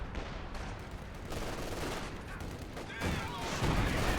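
Artillery barrage in a strategy video game, aimed at a trench: dense, continuous rumbling fire and blasts layered throughout, swelling louder toward the end.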